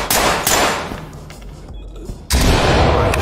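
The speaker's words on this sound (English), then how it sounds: "Toss a flashbang." A flashbang grenade detonating in the tactical shooter Ready or Not: loud sharp bursts and a metallic clang, a brief muffled lull, then another loud blast close by.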